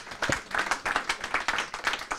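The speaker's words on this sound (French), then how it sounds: "on peut applaudir Bassem Assef pour" Audience at a citizens' dialogue event in Nantes clapping for a speaker, a lively burst of many hands applauding with a steady pulsing rhythm, close and unbroken throughout.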